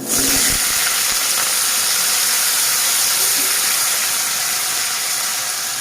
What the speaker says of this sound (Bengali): তেল গরম হয়ে গেছে, এবার আলুগুলোকে ভেজে নেব।